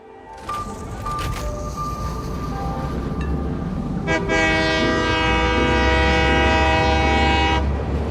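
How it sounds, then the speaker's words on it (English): In the video game Satisfactory, a train rolls along with a rumbling run, then sounds long multi-tone horn blasts, a short one early and a loud sustained one later, with no talk. "So of course that means the standard horn blowing."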